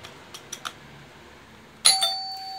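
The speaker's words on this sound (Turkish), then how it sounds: "Direkt dindon ötmeye başlıyor" An electronic doorbell gives a bright two-tone ding-dong chime near the end, loud and close, after a few soft taps in a quiet room; no one speaks.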